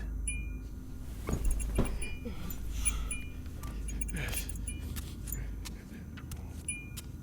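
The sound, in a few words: two keys jangling as they are picked up from a table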